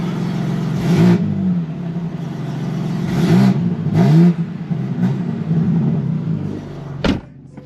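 A 2024 BMW M4 Competition engine revs up in several short bursts, loud and close, with a low steady idle rumbling between the surges.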